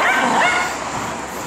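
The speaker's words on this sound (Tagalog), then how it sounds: "Ayun, magkapatid yung dalawa. Isang Labrador ata at isang golden." A Labrador and a golden retriever, two dogs from the same litter, let out a short, close yipping bark that blends into a whine and lasts barely a second and a half.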